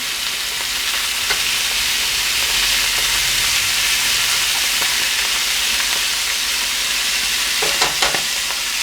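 Sausages frying in a pan make a dense, steady sizzle, loud and close, with occasional spits and a faint clatter of turning near the end. No one speaks.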